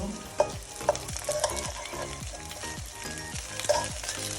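Shrimp and lentil fritters sizzle steadily in hot oil while a spoon scrapes and flips them, sharp clinks and stirring strokes recurring about every half second over the continuous frying hiss.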